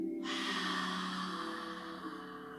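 A long, soft breath drawn in during a yoga exercise while the head bends forward, a steady airy hiss that lasts about two seconds over faint, sustained background music.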